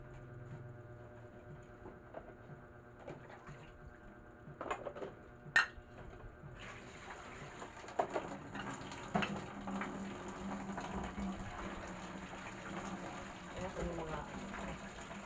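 Household dishes being washed under running water, with clinking plates, pots and cutlery and a tap gushing, growing busier midway and continuing steadily, with faint voices in the background.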